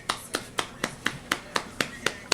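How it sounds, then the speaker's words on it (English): A family claps hands along with a singing dog at home, nine sharp claps in an even, quick rhythm, moderately loud and close, with faint background noise. "Nice. Clap."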